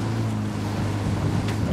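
Water lapping and washing in Ghost Recon Wildlands, a steady close wash of waves under a low engine-like rumble, with no talking.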